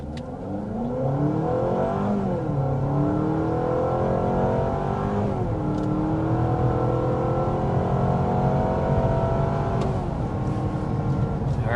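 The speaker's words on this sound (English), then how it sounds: "there was a 60 mile an hour acceleration with the CR-V hybrid" A 2025 Honda CR-V Hybrid accelerating hard to 60 mph, its engine drone rising in pitch in several sweeps as it gains speed, steady and loud from inside the cabin.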